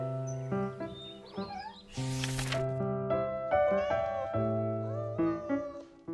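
A kitten mews repeatedly and close by, in short high cries with a few drawn-out wavering ones, over a musical backing, with a brief noisy burst partway through.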